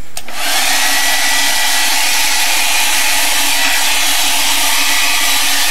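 A handheld heat dryer blows steadily to dry a freshly worked art journal page, a loud continuous whooshing whir that starts abruptly and holds without a break, with no talking.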